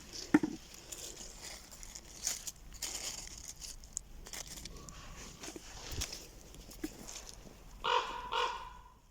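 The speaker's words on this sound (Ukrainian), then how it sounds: "О, ворони. Круки" Ravens cawing in a forest during mushroom picking, several harsh calls scattered across the clip, some nearer and louder, along with faint rustling and footsteps.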